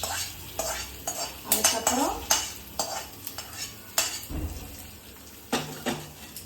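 Metal spoon scrapes and clinks against a pan amid a soft sizzle of tempering spices frying for bisi bele bath, with irregular stirring strokes close by and no talking.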